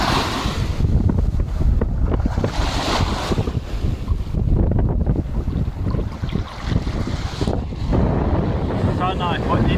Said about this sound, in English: Stronger wind, but now it's still strong, but not as strong.